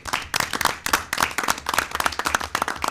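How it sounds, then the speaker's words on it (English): Audience applause thanking the owners of Green Street for a $1,000 donation: dense, steady clapping from a crowd, fairly close and lively, running throughout without speech over it. "So round of applause for that."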